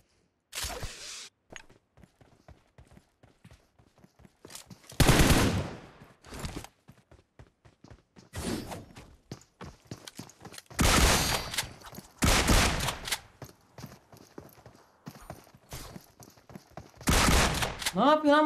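Bursts of gunfire in the video game PUBG Mobile come in several loud, dense volleys separated by quieter stretches, with someone talking between the shots.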